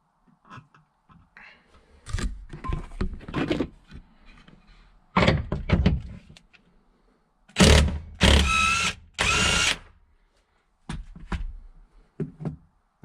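A 17 mm socket works a rear seat bolt loose in an Audi RS3, with several bursts of close mechanical ratcheting and clunking separated by quiet pauses.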